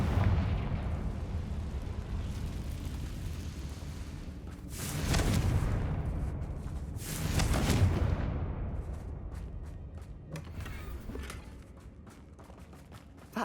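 A Confringo fire spell explodes during combat in Hogwarts Legacy, with two loud booming blasts about two seconds apart, then a fainter later burst over a steady rumble of game ambience.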